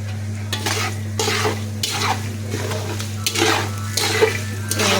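A spoon stirs turmeric into hot oil in a metal pan, with repeated scraping and clinking strokes in bursts over a soft sizzle and a low steady hum underneath, no talking.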